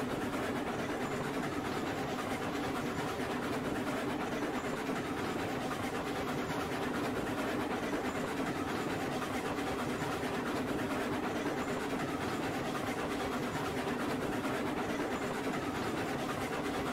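A freight train hauling oil in the video game Railroads Online rolls along with a steady, continuous rumble and faint wheel clatter, unbroken and even throughout.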